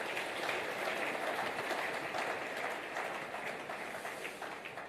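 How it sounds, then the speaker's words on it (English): An audience at an entrepreneurship talk gives a round of applause, a faint, fairly distant wash of many hands clapping that fades gradually over a few seconds. "Let's give him another round of applause."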